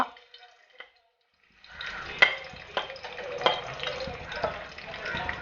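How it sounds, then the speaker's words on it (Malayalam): Onions, garlic and curry leaves sizzle in hot coconut oil, a steady crackling fry with sharp spatters and spoon stirs, close and moderate, starting after a brief quiet moment with light clinks. "വെളുത്തുള്ളി, വേപ്പില ഇതെല്ലാം ചേർത്ത് ഫ്രൈ ചെയ്യാം."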